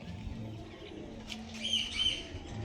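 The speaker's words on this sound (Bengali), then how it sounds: "এটা নর পায়রা এটা হচ্ছে মাদা পায়রা" Soft pigeon coos and a few chirps sound close by over low background noise, with no talking.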